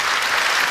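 A brief, loud burst of audience applause in a television talk-show studio, dense clapping that stays even for under a second.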